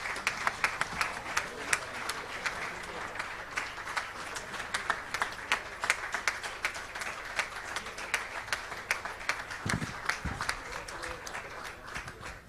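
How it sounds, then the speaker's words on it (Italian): A large audience applauds steadily at an Italian football awards ceremony. The clapping is dense and sustained, sounds moderately distant, and continues without a break throughout. "e per lui anche il vostro applauso, vi chiedo."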